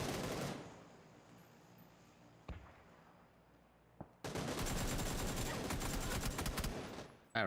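Bursts of AK rifle fire in PlayerUnknown's Battlegrounds, a long rattling volley at the start, a couple of isolated shots, then another sustained automatic burst, fairly distant and muffled.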